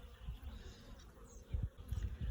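Honeybees buzz up close during a hive inspection, a steady low drone with sharper swells as individual bees fly past, several loud passes bunched near the end.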